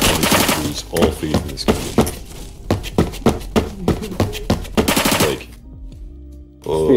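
An MG36 machine gun fires in the Phantom Forces game, loud close bursts of rapid shots in a steady run, first under a person talking and then standing alone, before a short quieter stretch.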